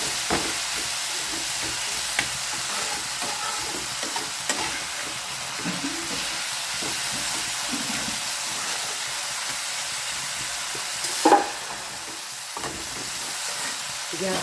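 Green beans frying in a pan and being stirred: a steady, soft sizzle holds throughout, broken by occasional scraping stirs and one louder clatter near the end, no voices.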